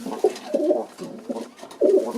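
A pigeon in breeding season coos nearby in a series of low, throaty rolling calls, four or five soft phrases in quick succession with no talking.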